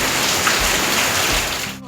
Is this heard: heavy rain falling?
yes